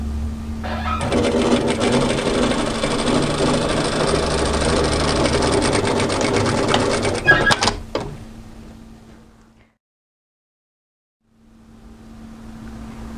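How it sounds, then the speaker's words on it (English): A sewing machine runs a garment seam for several seconds in a steady, close whir, stops abruptly, and the room goes quiet before a faint hum returns. "if you start sewing the garment from the bottom to the top"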